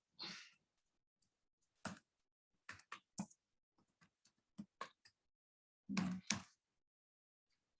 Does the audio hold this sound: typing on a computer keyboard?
yes